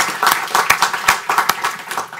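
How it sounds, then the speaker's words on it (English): An audience gives a brisk round of applause to welcome a guest speaker at a Washington policy event on Colombia. The clapping is close, crisp and uneven, with individual hand claps standing out. "join in a round of applause as we welcome Juan Carlos Pinzón back to Washington"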